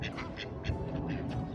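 Ducks quacking in a rapid run of short, close calls over a low murmur of background noise, several birds overlapping for a brief moment.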